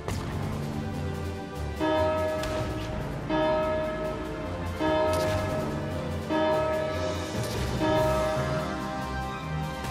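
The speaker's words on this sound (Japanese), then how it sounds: "鐘を鳴らすぞ。" Tolling bell in the war video game Valkyria Chronicles 4, ringing loud and resonant in four or five evenly spaced strikes. Each clang leaves a long shimmering decay over a busy low background.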